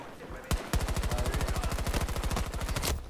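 A submachine gun in Battlefield 2042 fires one sustained rapid burst after a couple of opening shots, loud and close, with a dense, even rhythm of rounds.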